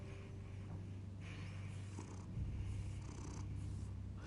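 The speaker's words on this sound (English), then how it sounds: "Hey, little one. Kitty." A cat purrs steadily in the game Batman, a low rhythmic rumble that stays faint and continuous with no talking over it.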